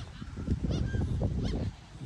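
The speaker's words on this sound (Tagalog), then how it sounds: "Ayan, daming ibon, no? Daming ibon na lumilipad." Several geese flying over a beach in Norway honk in bursts over a low, steady rumble of outdoor background noise, with calls overlapping irregularly at moderate distance.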